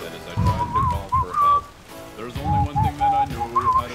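A person whistles a tune up close in short melodic phrases, with a pause midway before the melody resumes over a soft background patter.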